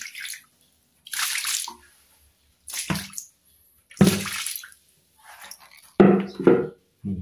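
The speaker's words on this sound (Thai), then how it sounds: "เราเทน้ำลงไปนะครับ" Water is poured from a container in several separate splashy bursts onto a scrubbed concrete floor being cleaned of algae and black stains, each pour a short rushing splash and patter with quiet gaps between.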